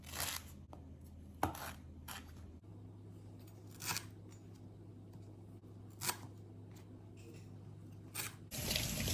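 Lemongrass stalks being washed under running water give intermittent soft splashes and brief water bursts, close by over a low hum, ending in a fuller rush from the tap.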